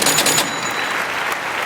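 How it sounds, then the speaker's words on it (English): Brief burst of applause for a guest on a casual podcast, loud and dense at first, then thinning to a steady patter of hands. "Let's give a round of applause for our guest."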